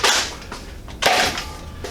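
Two sharp pistol shots from an HIR pistol firing XC ammo, each a crisp bright crack about a second apart with a short decaying tail, close and alone.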